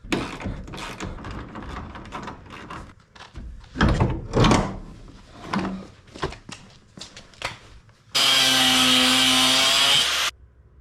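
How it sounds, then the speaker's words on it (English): Several clunks and scrapes of tool work on a 1947 Plymouth P15 Special Deluxe, then a loud, steady power-tool grind cutting off a metal nub for about two seconds at the end. "I'm also going to cut this nub off the front left"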